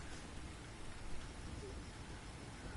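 Steady rain falls in The Invisible Hours VR game as a dense, even hiss, soft and constant throughout with no distinct drops standing out.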